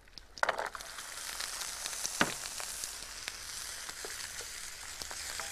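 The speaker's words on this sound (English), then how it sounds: "Mmm, they're sizzling now." Chopped celery and carrots fry in hot oil in a frying pan, giving a steady crackling sizzle with occasional sharper pops and stirring scrapes, close and continuous with no talk.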